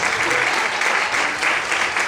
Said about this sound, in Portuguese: Aplauda o Senhor nesta noite.